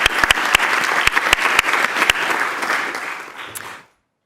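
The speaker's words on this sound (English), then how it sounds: "So please join me in a round of applause to thank Beth for her leadership at Gordon P" Audience applause at a school board meeting: a steady wash of clapping with a few sharp, close claps standing out, fading away abruptly after about four seconds.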